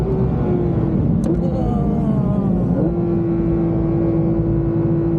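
McLaren engine at the Brûleurs de Gommes car event, holding a steady droning idle-like tone with a brief pitch step as it revs up, loud and close with a low rumbling underlay.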